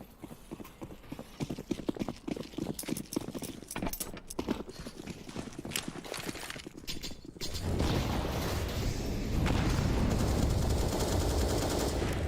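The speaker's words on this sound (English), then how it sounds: "Shots go back the other direction." Rapid bursts of automatic gunfire and sharp shots from a Counter-Strike: Global Offensive match on the Nuke map, crackling in quick irregular volleys before giving way to a denser, steadier rumble of game action.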